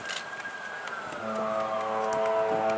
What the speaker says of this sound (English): Now we got sirens to contend with.